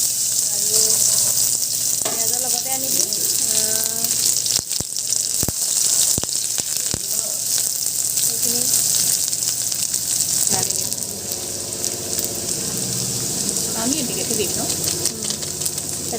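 Chopped onions sizzling in hot oil in a pan while Maggi noodles are being made, a steady frying hiss with occasional stirring and scraping, and someone speaking over it at times.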